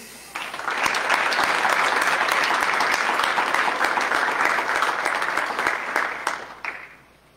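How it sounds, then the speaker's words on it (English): Sustained applause from an audience at a lab coat ceremony, with steady clapping rising quickly, holding for several seconds and then tapering off. "let's keep the uh, applause coming."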